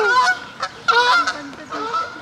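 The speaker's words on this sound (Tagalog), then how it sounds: "Mga ibon." Geese honk loudly and repeatedly nearby, their harsh calls overlapping in a busy, continuous flock chorus.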